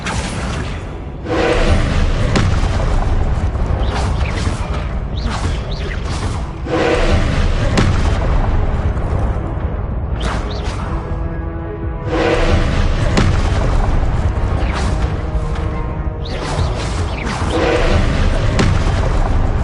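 Repeated Confringo blasting spells in Hogwarts Legacy, several loud booming explosions in bursts separated by brief lulls, each with a deep thump and whooshing tail, close and dominant.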